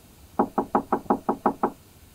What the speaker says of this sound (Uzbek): Yana bitta taqillatib ko'ring.